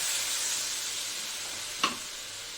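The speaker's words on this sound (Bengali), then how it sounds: "এবার আমি দিয়ে দেবো জল" Steady high sizzling hiss of curry masala frying in a pan, with a brief sharp burst near the end as water hits the hot surface.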